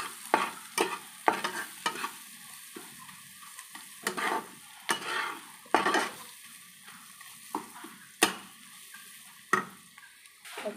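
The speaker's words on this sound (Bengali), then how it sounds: "এখন পেঁয়াজ ভাজা হয়ে গেছে" Onions fry in a pan with salt, chili and turmeric under a soft, steady sizzle, broken by repeated sharp scrapes and clatters of a stirring spoon against the pan, close by and without talk.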